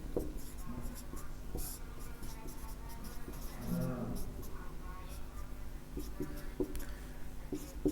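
Pen scratching across paper while a maths equation is handwritten during a class 10 lesson on the elimination method, steady close strokes running throughout alongside a speaking voice.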